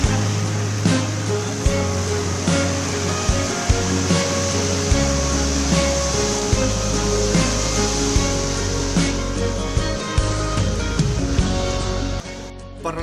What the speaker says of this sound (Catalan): Per realitzar la collita es fa servir una màquina per vendimiar adaptada per oliveres, en aquest cas una New Holland.